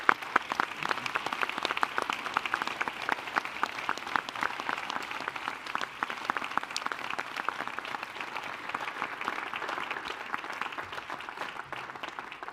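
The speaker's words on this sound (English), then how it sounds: "And a big round of applause." Sustained applause from a conference audience after a lecture by an economics Nobel laureate, dense overlapping claps holding steady at moderate volume for several seconds, with no voices on top.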